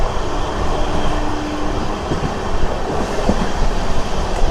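An Amrit Bharat Express on its inaugural run from Jogbani to Erode rushes through Bapatla station without stopping, with a loud continuous rumble and steady clickety-clack of wheels over the rails.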